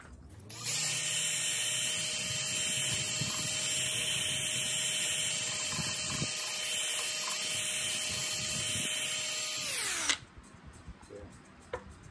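A wood lathe spins a tea tree branch vase at just over 400 RPM, a steady loud motor whine with high tonal harmonics and scraping tool contact, running for about ten seconds before winding down and stopping, leaving quiet room noise.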